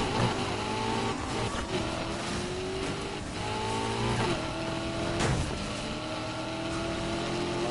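Racing car engine in NFS Heat revving loudly and continuously, pitch sweeping up and down through gear changes with occasional tire squeal, close and dominant with no talking.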